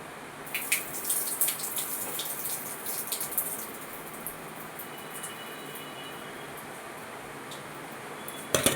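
Water poured from a tap over lentils (dal) in a home kitchen to rinse them, a steady close rushing splash that runs on evenly throughout with no talking.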